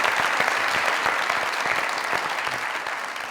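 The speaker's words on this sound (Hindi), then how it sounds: "तालियां यार" A studio audience on a Pakistani comedy talk show breaks into loud, sustained applause, dense clapping filling the whole stretch with no talk over it.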